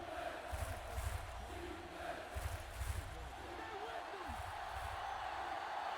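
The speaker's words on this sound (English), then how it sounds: "The sellout crowd here at Daggerford Stadium on their feet for a 3rd down and inches" Distant video game stadium crowd roaring and cheering in swelling waves for a third-and-inches football play, with a faint commentary-like voice under the steady crowd noise.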